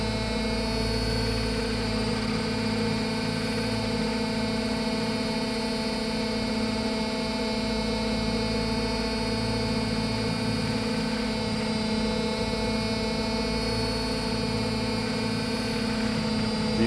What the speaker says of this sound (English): here I'm doing some nose forward pirouettes, or very shallow funnels, if you care to call them that, going against main rotor torque